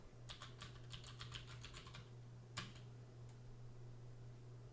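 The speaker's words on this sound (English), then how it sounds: "Now type in var_info." Quick bursts of keystrokes on a computer keyboard, a rapid run of clicks followed by a pause and a couple of isolated taps, heard close over a steady low electrical hum.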